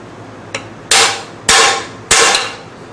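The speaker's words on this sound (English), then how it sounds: "we'll be able to knock this out with a 1/8 inch pin punch and a hammer" A hammer drives a 1/8 inch pin punch: one light tap, then three loud, sharp metallic strikes about half a second apart, each ringing briefly before fading, with no voices.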